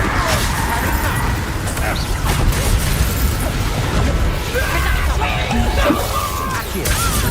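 A Confringo blasting spell detonates in the video game Hogwarts Legacy, a dense, continuous barrage of crashing bursts and rumbling booms mixed with game effects, loud and unbroken throughout.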